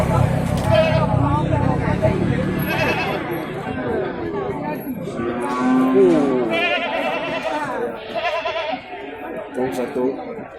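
Goats and sheep bleat repeatedly in the Sibreh livestock market in Aceh, a crowded trading ground, their calls overlapping with constant chatter and talking voices, one bleat standing out clearly in the middle.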